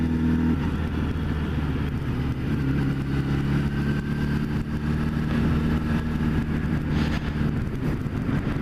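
A motorcycle engine rumbles steadily at low idle-like revs, with wind buffeting the microphone throughout.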